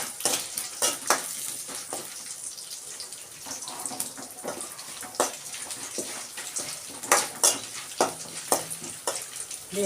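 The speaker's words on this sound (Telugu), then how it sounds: "ఇవి బాగా వేగేంత వరకు వేగనివ్వాలండి." Tempering spices and four dried red chillies, later joined by curry leaves, fry in hot oil for a ridge-gourd peel chutney, a soft continuous sizzle broken by irregular spatters and pops.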